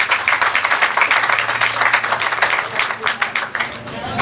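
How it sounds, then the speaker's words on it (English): A crowd at a women's college soccer match claps steadily, a close, loud patter of many hands with sharp individual claps rising and falling throughout. "Crowd applause"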